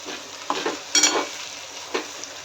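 A spatula scrapes and stirs through masala for stuffed eggplant in a pan over a soft sizzle, a few distinct strokes, close up.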